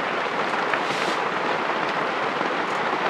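Rain falling outdoors, a steady, even hiss of heavy rainfall with a faint rumble beneath it, continuous and close with no voices.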